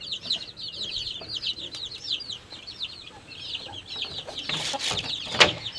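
Large chickens cluck repeatedly in a steady chatter, several birds nearby, with a louder squawk near the end and no talking.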